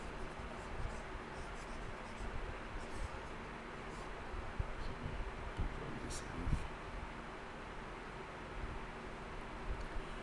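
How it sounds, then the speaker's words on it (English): Pen scratching notes by hand on paper, a faint steady scribble with occasional taps under a constant hiss of background noise, close but quiet. "Okay, maybe I'll write it down."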